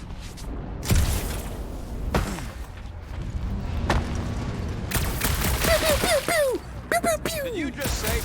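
Rocket fires his guns in the Guardians of the Galaxy video game: a loud burst of blaster shots near the start, then further thumping shots and zapping effects layered under game voices and music.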